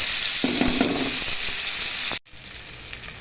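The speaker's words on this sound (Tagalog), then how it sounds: "Mag-agisin na tayo ng bawang sibuyas." Garlic and onion sizzle steadily as they sauté in hot oil in a frying pan, with a few stirring scrapes. The sound cuts off abruptly near the end, leaving quieter kitchen noise.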